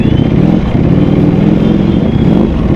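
A Ducati Panigale V4 motorcycle engine and exhaust, idling with a dense, steady low rumble that is close and loud and has no clear revving.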